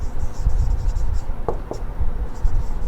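Chalk or marker scratching across a board in a taxation lecture, steady writing strokes filling the short stretch with a couple of sharper marks midway, heard up close without speech.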